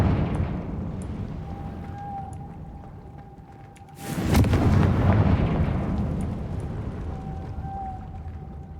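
A Confringo fire spell explodes in the Hogwarts Legacy video game, a sudden loud broadband blast that swells and then rumbles away over several seconds against a steady game soundscape.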